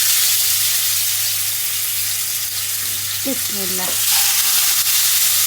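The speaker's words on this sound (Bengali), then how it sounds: "অল্প তেলে এখন চুলাতেই ভাজি।" Food frying in a little oil in a pan on a gas stove, a steady close sizzle with stirring that runs throughout, plus a low constant hum and a short spoken word partway through.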